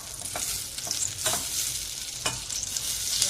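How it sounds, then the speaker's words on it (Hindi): Butter sizzling and frying in a pan or pot, a steady close crackle with a few stirring scrapes and no voices. "अब इसमें हम ये बटर डालेंगे"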